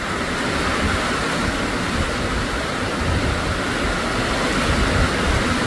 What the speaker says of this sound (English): Sound of rain. Good steady rain.